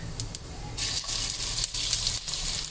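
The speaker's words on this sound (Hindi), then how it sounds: "अब इसमें अदरक लहसुन डाल देंगे" Ginger and garlic fry in hot oil in a pan, a steady close sizzle running throughout with short bursts of louder crackle and spatter.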